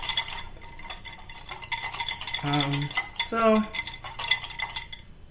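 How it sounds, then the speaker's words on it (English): A whisk rattles and scrapes against a bowl while a mixture is stirred smooth, quick close clinking strokes with a few ringing metallic tones, no speech. "I'm using my whisk to get it smooth"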